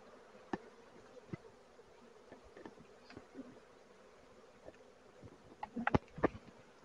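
Honeybees buzz softly and steadily inside a Flow Hive, with scattered close wing passes and light knocks rising near the end.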